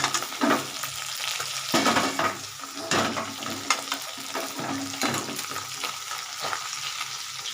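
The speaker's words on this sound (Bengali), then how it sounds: "আর সামান্য ভেজে নেব তার মাছ ভাজাটা হয়ে গেছে" Oil sizzles steadily in a pan as small mourala fish fry, with occasional scraping and stirring clatter from a utensil close by; no one speaks.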